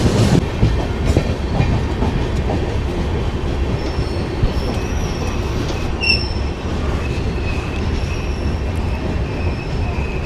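The Silchar to Coimbatore express train pulling away from a stop and running, heard steadily and loudly from inside with a continuous rumble, rhythmic wheel clatter and occasional high squeals from the wheels.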